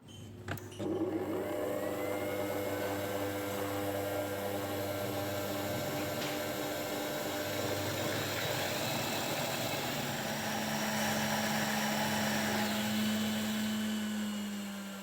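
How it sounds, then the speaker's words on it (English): An electric mixer whirs steadily while mixing cookie dough of flour, butter and sugar, a close continuous motor hum starting after a clunk and rising in pitch toward the end. "The mixer whirs and stirs all the ingredients."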